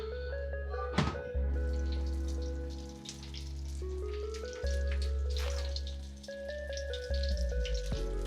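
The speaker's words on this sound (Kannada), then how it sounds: "ಫ್ರೈ ಆಗ್ತಾ ಇದೆ." Kingfish (anjal) fries on a hot tawa with a soft, continuous sizzle, faint and close, broken by a few sharp spatters and clicks.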